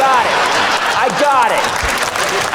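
A comedy club crowd claps and cheers in a continuous, mid-level burst while a voice talks over the applause.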